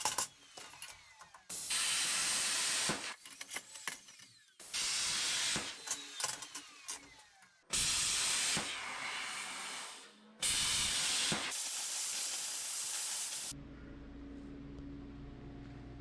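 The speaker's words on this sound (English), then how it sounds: "The first thing I have to do is pierce through the plate where the holes are going" A plasma cutter pierces a steel plate, giving repeated loud bursts of harsh hiss separated by short pauses and clicks, close by, ending in a quieter hum with no talk.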